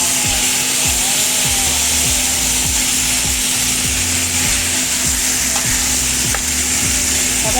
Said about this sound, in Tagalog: At syempre lalagay na po natin ang ating chicken feet.